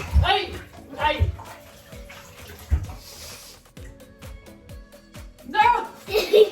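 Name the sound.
water splashing in a bathtub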